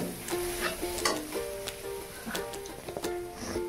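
Chopped green jackfruit tipped into a pan of fried, cooked-down spices for a curry, giving a steady close sizzle with light stirring scrapes and soft clinks, and no talk.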